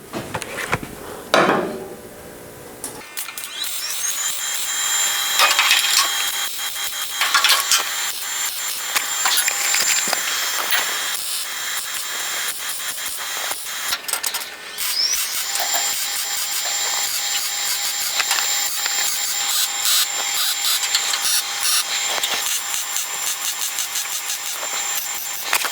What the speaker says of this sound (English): So I'm gonna just start welding this bad boy up too.